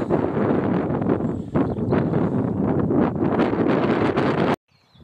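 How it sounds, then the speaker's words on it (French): Strong, steady wind on a ridge buffets the microphone in a continuous roar for several seconds before cutting off abruptly. "Et il y a du vent."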